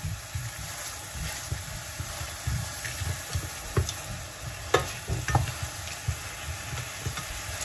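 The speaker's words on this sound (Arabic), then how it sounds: "نخلط مليح" Chicken and spinach lasagna filling is stirred in a frying pan, with a steady sizzle and soft, irregular scraping strokes running throughout at close range.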